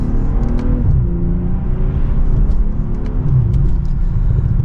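A 2024 BMW M340i accelerating hard in sport mode in second gear, its engine a loud, steady, rising roar heard from inside the cabin with no talking.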